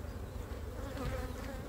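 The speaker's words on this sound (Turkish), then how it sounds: "Ya diyorum ya, arı kudurdu burada" A close, dense buzz of agitated honey bees fills the air around a hive being split, a steady churning drone with no pauses.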